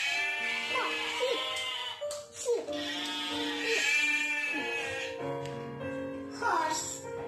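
A small child imitates sheep bleating, giving a series of wavering, nasal baa sounds one after another, near and clear, with short pauses between the calls.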